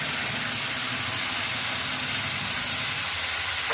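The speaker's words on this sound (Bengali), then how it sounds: "এবার জিরেটা আমি নাড়াচাড়া করে নিয়ে সিদ্ধ করে রাখা কচুরমুখিটা আমি ঢেলে দেবো।" Boiled taro poured into hot oil with cumin seeds in a pan, giving a loud, steady, broadband sizzle that fills the whole clip without pause, with no voices over it.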